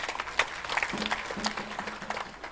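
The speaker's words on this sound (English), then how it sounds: "It is important that we give you another round of applause." A crowd at the commissioning ceremony of the Karuma hydro-power plant gives a round of applause, a moderate, uneven patter of clapping with a voice briefly audible beneath it.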